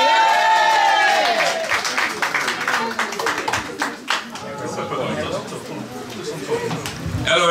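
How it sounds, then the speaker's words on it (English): An audience at a music showcase applauds a performer. The clapping and cheering are loud at first and slowly thin out, with a voice speaking over the opening moments. "Let's have a big applause for Ivan."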